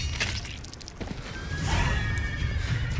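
A horse in The Witcher 3: Blood and Wine lets out a loud, drawn-out neigh over dense, steady game background noise with faint clattering, filling the whole stretch without pause.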